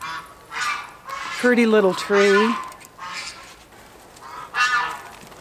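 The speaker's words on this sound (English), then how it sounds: "Uh-oh, the geese found me." Geese honk in a loud, harsh, rising series close by, with a second burst of calls following, while a person talks over and between them outdoors.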